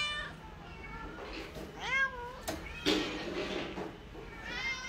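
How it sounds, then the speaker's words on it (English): A stray kitten of about nine weeks meows several times in high, rising calls at an adoption shelter, close and fairly clear over a low room background, with a person softly speaking nearby. "He's another little stray kitten."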